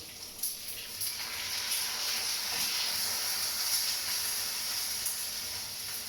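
Sticky honey sauce sizzles and hisses steadily in a pan of browning pork belly, a constant soft frying sound with no talking.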